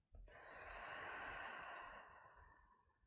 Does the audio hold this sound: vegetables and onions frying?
no